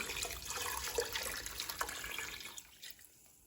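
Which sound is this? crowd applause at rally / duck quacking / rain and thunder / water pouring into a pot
water pouring into a pot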